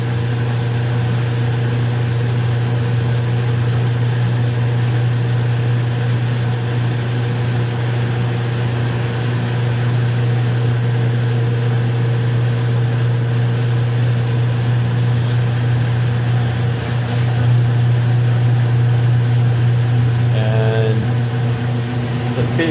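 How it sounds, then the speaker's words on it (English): A Speed Queen commercial washer turning on a slow spin cycle, a loud steady low hum and drone holding even throughout, with a faint mechanical clatter near the end. "Right now, I think this is a slow spin cycle."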